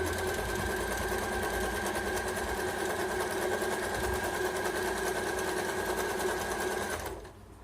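An Usha sewing machine runs steadily while stitching a zigzag pattern, a continuous fast mechanical whir with rhythmic clatter that stays loud and close, then cuts off abruptly near the end.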